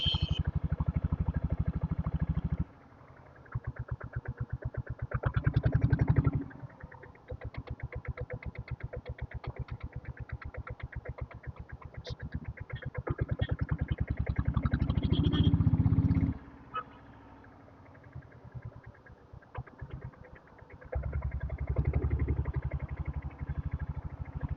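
A diesel Royal Enfield Bullet motorcycle engine putters and idles, swelling into several louder throttle bursts as it moves through traffic in Kodaikanal, with brief pauses between.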